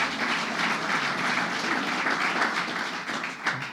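An audience at a New York State grant awards event gives sustained, dense applause, full and even from start to finish with no speech over it.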